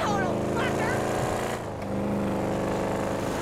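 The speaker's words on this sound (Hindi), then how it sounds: "क्या आवाज आ रही है गाड़ी की यार, मजेदार." Car engine in the GTA V video game, a loud continuous motor drone with shifting revs and a brief dip midway, heard alone without speech.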